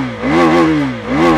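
KTM Duke 390 BS6 single-cylinder engine revving through its side-hung single-barrel exhaust, close and loud, two rising and falling blips of throttle in quick succession.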